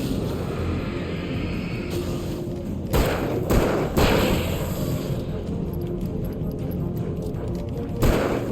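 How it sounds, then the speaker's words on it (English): A flare gun fires in the video game Alan Wake Remastered, giving several sharp thuds and bursts around steady in-game background sound, with a louder blast near the end. "Man, that flare gun is amazing."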